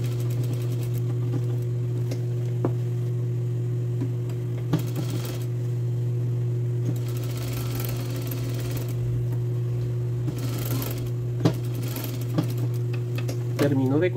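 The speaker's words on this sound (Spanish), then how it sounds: "paso la costura. Estoy cosiendo a 5 milímetros." Sewing machine stitching a blouse seam 5 mm from the edge, a steady close mechanical hum and whir running throughout with small clicks of fabric handling.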